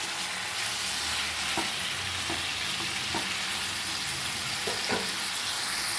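Tomato pickle being stirred in a hot pan, a steady sizzle running throughout with a few sharp scrapes of the spoon against the pan, no voices.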